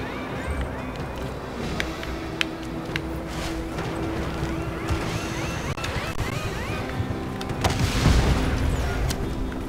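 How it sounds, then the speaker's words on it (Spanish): A video game explosion in Just Cause 3 booms near the end of the clip, a loud low burst over steady game noise. Wind, water and gunfire-like sounds fill the scene, and a voice talks over it. "Se avecina una explosión."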